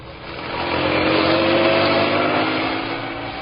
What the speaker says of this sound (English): Inspector Manson and Sergeant Wright left Scotland Yard, careening out of the gates on two wheels, and roared out of London and into Essex.